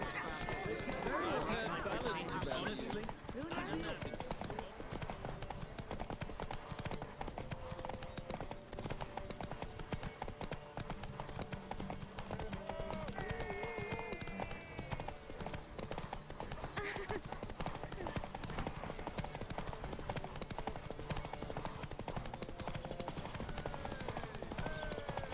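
Roach the horse galloping in a race in Witcher 3, a fast continuous hoofbeat rhythm at moderate level with occasional whinnies, mixed with voices and game ambience.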